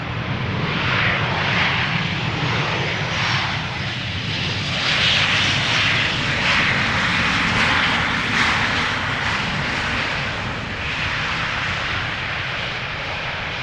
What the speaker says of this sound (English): another Transavia 737 just touched down over here on Polderaan